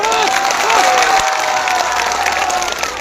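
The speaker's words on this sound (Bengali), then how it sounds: "এর জন্য একটা জোরে হাততালি" A crowd at a political rally claps loudly and cheers in a sustained burst, with scattered shouts and whistles mixed into the dense clapping.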